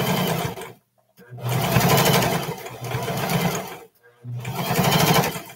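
A sewing machine stitches a seam on a pair of short pants in loud, fast continuous bursts, stopping briefly twice before running again.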